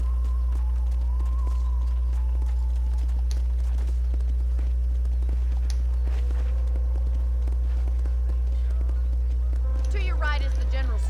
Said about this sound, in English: The horses are cool in this game.